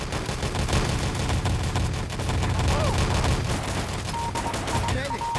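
Rapid bursts of gunfire in the video game Wolfenstein: Enemy Territory, with dense overlapping shots crackling throughout, loud and close, alongside faint game effects.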